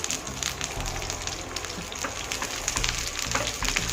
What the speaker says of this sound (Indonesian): Ini minyaknya sudah panas, langsung saja kita masukkan bawang putih dan juga bawang merahnya.